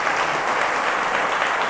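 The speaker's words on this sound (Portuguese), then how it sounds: "Será que você pode dar o aplauso mais alto que você puder para Deus?" A church congregation claps steadily and loudly, a dense wash of applause with no pauses.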